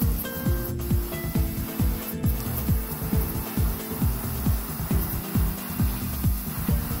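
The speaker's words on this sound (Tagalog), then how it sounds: "Konti lang spray nito konti lang dun sa ilalim ng ulo at sa belly" Spray paint hisses in short repeated bursts onto a homemade fishing lure, adding transparent orange on the belly and under the head, with a rapid rhythmic rattling close to the mic and no talking.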